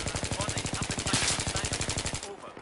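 Battlefield 3 gunfire: a fast, evenly spaced automatic weapon burst of roughly twenty close, loud shots in steady rhythm, ending abruptly near the end.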